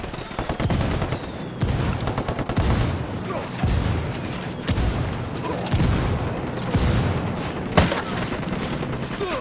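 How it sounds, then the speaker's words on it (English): Enemy gunfire in the Ghost Recon video game, sustained volleys of rifle and machine-gun fire with heavy booming shots at a steady uneven rhythm, a loud battle with no break. "Estamos bajo el fuego de armas enemigas y no sabemos cuántos son."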